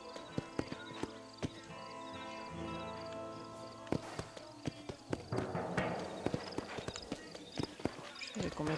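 Horse galloping in Red Dead Redemption, with quick rhythmic hoofbeats that speed up and grow louder over a low musical drone, occasional snorts mixed in, and a voice briefly speaking at times.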